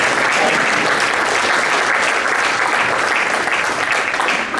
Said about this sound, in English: So to everyone in this room, I want to go around with applause.